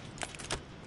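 Quick mechanical clicks of a weapon reload in Killzone Shadow Fall, two sharp metallic snaps about a third of a second apart, faint and close.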